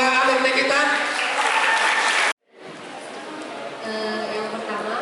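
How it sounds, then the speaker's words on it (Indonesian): A school audience bursts into sustained applause for two alumni, dense clapping that cuts off abruptly, then returns more softly and builds again, filling the room. "Beri aplaus dulu kepada semua"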